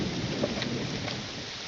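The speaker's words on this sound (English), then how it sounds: "Pretty storm." Rain pours steadily in a thunderstorm in the video game Morrowind, a dense even hiss with faint rumbles of thunder underneath, no voices.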